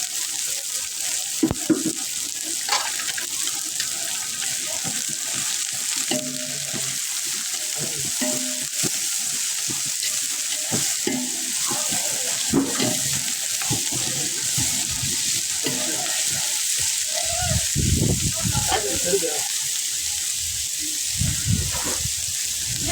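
Onions frying in a pan for a brinjal pachadi, a steady close sizzle with intermittent stirring scrapes and a few louder spatula knocks near the end.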